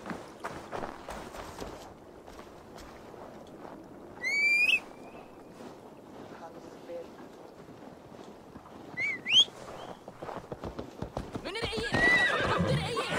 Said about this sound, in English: I just called my horse.